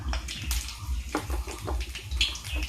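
Black cumin seeds and dried chilies sizzle in hot white oil in a kadai, making a continuous crackling hiss with small pops. It sounds close and fairly quiet, with no talk.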